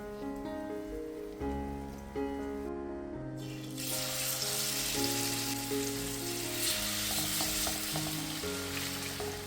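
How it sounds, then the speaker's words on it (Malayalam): Marinated chicken, coated in a little flour, frying in a pan, with a steady loud sizzle and crackle throughout, brief stirring clatter and a burst of stronger hiss partway through, over light background music. "നമ്മൾ നേരത്തെ മാരിനേറ്റ് ചെയ്ത് വെച്ചിട്ടുള്ള ചിക്കനെല്ലാം നല്ല ഒന്ന് ഫ്രൈ ആക്കിയിട്ടെടുക്കുക"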